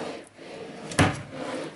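A wooden nightstand drawer in a furnished apartment bedroom slides and knocks once, a single short close thud in a quiet room.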